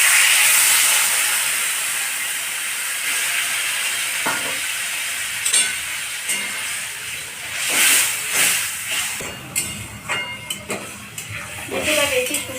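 Water poured into a hot pan of fish curry with onion flowers, a broad steaming hiss that fades and then gives way to scattered stirring clatter and utensil knocks against the pan.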